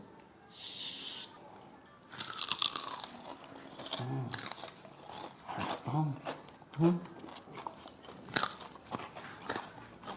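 Loud, crisp crunches of someone biting into crispy chicharon bagnet pork skin, several bites in a row, close up, with brief murmured sounds between them.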